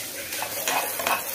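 Chopped garlic frying in ghee in a pan, a steady close sizzle with faint stirring scrapes and no talk.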